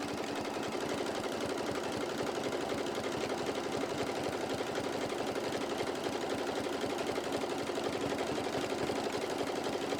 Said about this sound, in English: then do a tacking stitch, and then just go ahead and sew all the way around